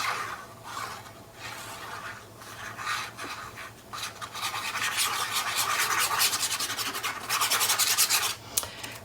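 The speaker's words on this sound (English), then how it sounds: "This is a Teflon bone folder, and we now have these in our shop, and I am loving this." A Teflon bone folder rubbed back and forth over paper while crafting a mini album, a close, steady scraping rasp that builds and grows louder toward the end, with no voice over it.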